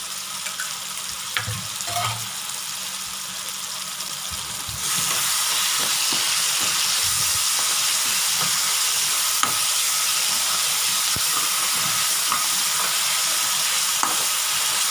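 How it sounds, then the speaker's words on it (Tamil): Tomato, onion and garlic fry in a pan for Chettinad fish curry, giving a steady, loud sizzle and hiss that swells after a few seconds, with occasional clicks of stirring and no talk. "இன்னும் கொஞ்ச நேரம் ஃப்ரை ஆகட்டும், ஒரு 2 மினிட்ஸ்"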